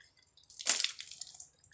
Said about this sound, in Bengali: দেখো ভাই জল পড়ে যাচ্ছে সব